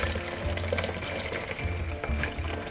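Ice cream custard for a Black Forest cake ice cream, just taken off the heat and poured through a strainer, giving a soft continuous trickle and drip of liquid, fairly faint.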